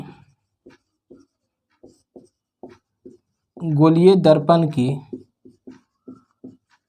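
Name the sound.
writing on a board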